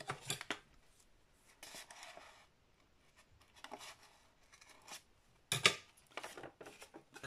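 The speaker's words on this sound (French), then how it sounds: "Là, on peut couper un petit peu hein, si on veut." Scissors snip through craft material for a decorative pouch in short, crisp bursts separated by pauses, close and fairly quiet, with no talking over them.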